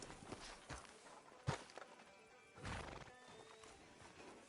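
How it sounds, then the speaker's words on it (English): Hooves clip-clop at a walking pace with a horse whinnying and snorting, close by, under a steady ambient backdrop, in a video game. "Can you grab Anders off your horse and carry him in for me"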